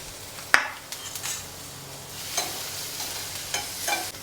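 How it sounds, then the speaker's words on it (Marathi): Corn and capsicum shallow-frying in ghee on a tawa as a homemade pizza topping: a soft continuous sizzle broken by a sharp utensil clink and several lighter scrapes of stirring, heard close with no talking. "ही मका आणि शिमला मिरची थोडीशी शालो फ्राय करून घ्यावी"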